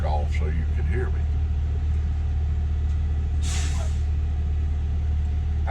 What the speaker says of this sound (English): Y'all can see this truck backing in here.